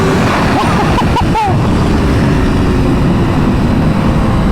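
A BMW S1000RR motorcycle engine held at full throttle gives a loud, steady roar mixed with rushing wind, with a few brief higher chirps early on.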